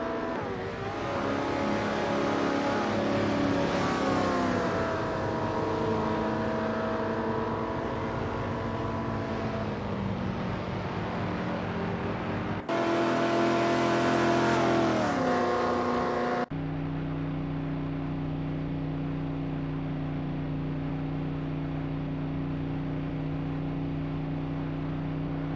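Autonomous AI-driven race cars on an Indy oval, loud engine drones holding and bending in pitch as cars pass, switching abruptly between camera feeds with different engine tones, no talking.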